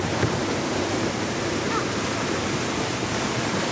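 Undari Falls, a waterfall in a Queensland gorge, pouring as a steady, dense broadband roar, loud and close without a break.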